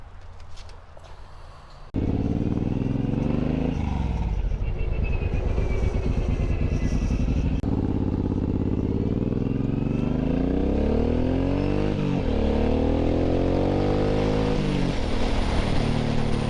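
A Suzuki M109R cruiser motorcycle rides away from a shop, its engine starting loud after a quiet moment and rumbling on nearby, revving and shifting through gears with rising and falling pitch.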